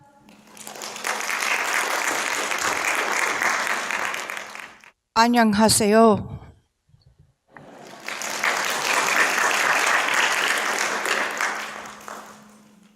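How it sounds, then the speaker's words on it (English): Conference audience in Seoul gives sustained applause to welcome a speaker. A long wave of clapping breaks briefly for a short spoken greeting, then the clapping swells again at similar strength and slowly fades. "Would you welcome her with big applause?"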